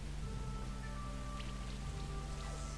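Acid Rain attack effect in the game Monster Sanctuary: a soft, steady patter of rain-like droplets with faint tonal hums from the game running underneath.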